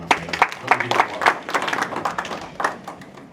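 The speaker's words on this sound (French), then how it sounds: "Est-ce qu'on peut applaudir pour le prince Happy?" A short burst of audience applause at an evening life-celebration event, many hands clapping close and fairly loud for a few seconds.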